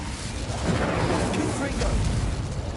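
A fire spell cast in Hogwarts Legacy, a dense roaring burst of flame with crackling texture that swells and holds for a few seconds, loud and close, with a voice speaking over it.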